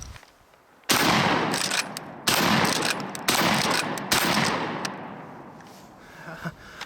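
A TR Imports XP15 pump-action 12 gauge shotgun fires outdoors, each loud, close blast booming and decaying, with four or five shots spaced about a second apart after a quiet opening.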